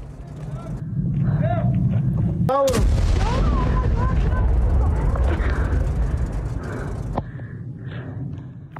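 Israeli airstrike bombardment in south Lebanon: one sharp, loud blast is followed by a heavy, lingering rumble over steady background noise, while voices call out nearby.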